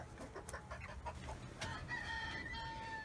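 Sultan chickens in a coop, including rare splash-coloured birds, clucking and crowing close by in short overlapping calls, with a rooster's drawn-out crow near the end.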